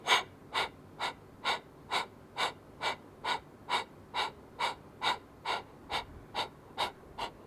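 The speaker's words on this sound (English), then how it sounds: "This is called Kapalabhati breath. It's known as the skull shining technique. It's an active and forceful breath" Forceful Kapalabhati yoga breathing, a steady run of about thirteen sharp, rhythmic nasal exhalations roughly every half second, close and clear with no talking.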